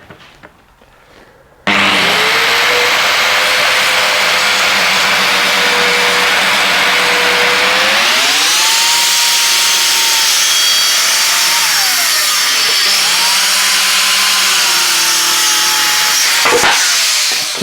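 A circular saw cuts through a plywood tabletop along a speed square guide, spinning up with a loud whine, then droning steadily with pitch shifts as the blade bites and finishes, close and alone before winding down.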